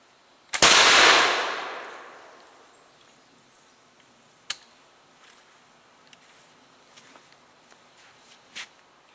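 A trade gun muzzleloader fires a hunting load once, a single sharp, loud blast that rolls off into a long fading echo, followed by faint scattered clicks and a quiet background.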